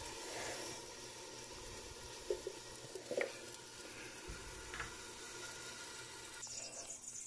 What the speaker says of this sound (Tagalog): Lagyan na natin ng mantika yung kaldero.